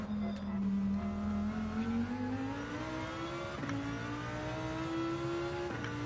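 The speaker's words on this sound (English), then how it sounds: "Yes! V10 noises. Well, I was already on a V10, but this is high revving one." A high-revving V10 race car engine in a driving game, held as a loud, steady whine that climbs slowly in pitch with brief dips at gear changes, close and continuous with no talking.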